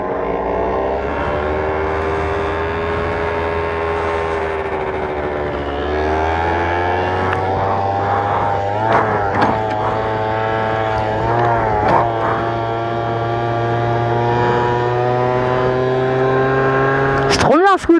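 A scooter engine drones steadily and close while riding, its pitch sagging and rising as the throttle changes, with a brief sharper rise at the end. Voices can be heard faintly alongside.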